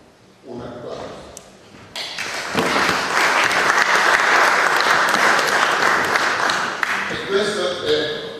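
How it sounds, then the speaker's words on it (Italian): Audience applause at an antifascist march event in Reggio Calabria. A few scattered claps build into loud, dense clapping that holds steady for several seconds before starting to thin out. "Un applauso."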